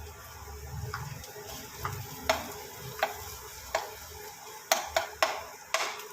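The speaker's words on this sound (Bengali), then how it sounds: "আর অর্ধেক কুচি করে রেখেছি পেঁয়াজ দিয়ে দিলাম। এটা দিয়ে একটু ভালো করে ভেজে নেব।" Chopped onions fry in a pan with a constant crackling sizzle, punctuated by a series of sharp metallic clinks and scrapes as a spoon stirs them, close and fairly loud.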